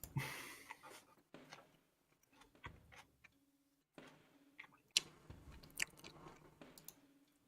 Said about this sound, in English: Sorry for chewing.